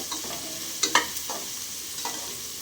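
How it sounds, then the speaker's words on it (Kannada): Onions sauté and sizzle in a pan, a soft steady hiss broken by a few sharp stirring scrapes and clicks, close and fairly quiet with no talking. "ಈರುಳ್ಳಿ ಮಾತ್ರ ಸ್ವಲ್ಪ ಚೆನ್ನಾಗೇ ಬಾಡಬೇಕು"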